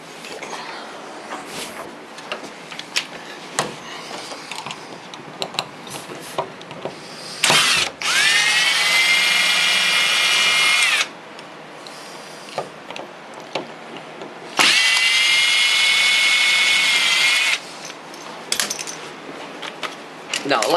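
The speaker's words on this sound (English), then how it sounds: "I'm going to pop the lock off with my power screwdriver here." A power screwdriver backs the screws out of a wooden door's lock during a home door repair, whirring in two sustained bursts of about three seconds each, loud and close, between quieter clicks and handling noise.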